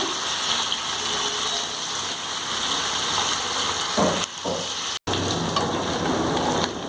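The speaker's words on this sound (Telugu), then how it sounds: "ఇట్లా చికెన్ ఫ్రై అవుతుందండి." Chicken pieces frying in a hot pan for spicy fried rice, a steady dense sizzle running throughout at close range, with a brief dip near the end before the crackling resumes.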